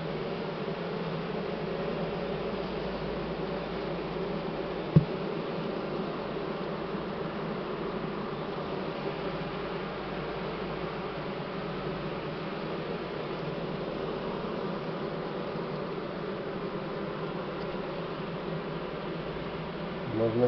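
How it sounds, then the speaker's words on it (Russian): Honey bees buzzing at an open hive during nest expansion, a dense steady drone close by that fills the whole stretch with one brief click partway through. "Можно сказать, уже пчелки в роевое состояние заходят."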